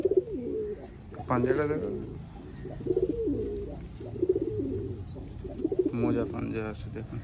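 Old-generation Giribaz pigeons coo in a loft, their soft repeated throaty calls rolling steadily close by while someone talks over them.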